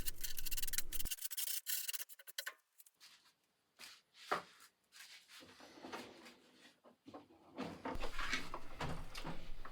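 Intermittent rubbing and scraping strokes of sanding a wooden part of a home-built F-16 ejection seat, irregular and close, with brief pauses and clunks between bursts of abrasive sound.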